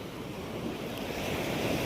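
Large sea waves roll and crash on the shore in a steady, continuous surf wash, with wind noise buffeting the microphone throughout.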